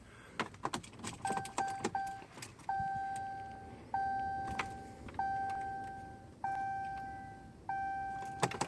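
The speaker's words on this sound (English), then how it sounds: "I'm going to cycle the key, I guess twice, 3 times." Ignition key cycled on a 2017 Ram 6.7L Cummins pickup truck: keys jingle and click at first, then a series of dashboard chimes, repeated steady tones each held about a second, sounding close inside the cab.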